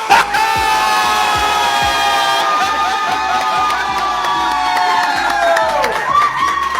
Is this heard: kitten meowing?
no